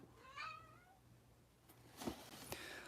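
A cat gives one clear, rising meow close by in a quiet room, followed by a couple of soft rubbing bumps and clicks against the microphone.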